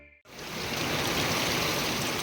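A hailstorm pours down in Mayanur near Kulithalai, Karur district, as a dense, steady roar of hail and rain that swells in within the first moments and holds loud and continuous, with no voices.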